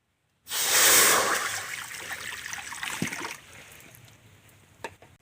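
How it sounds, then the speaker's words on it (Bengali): Water pours steadily into a wok for boiling eggs and potatoes, starting abruptly as a bright rushing splash that settles into a softer trickle, with a metallic clink midway and small knocks before it stops. "ডিম আর আলুটা সেদ্ধ করে নেবো, তাই কড়াতে জল দিয়ে দিচ্ছি।"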